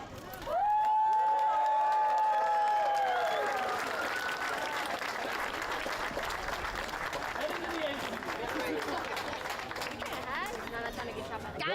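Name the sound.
applause at a school ribbon cutting ceremony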